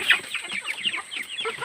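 Chickens clucking in a close, busy chorus, short overlapping calls repeating steadily with no pauses.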